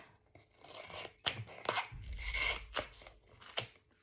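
Strips of tape being laid and pressed along the edge of an 8.5 x 8.5 inch scrapbook album, giving close, uneven rubbing and crackling sounds with a few sharper bursts, no voices.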